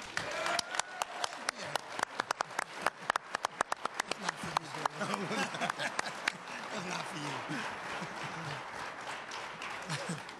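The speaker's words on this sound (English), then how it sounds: "They like to see a little applause also." Audience applause at a press conference, a burst of dense clapping that builds, peaks, then thins into scattered claps and crowd murmur, with a voice talking over the tail.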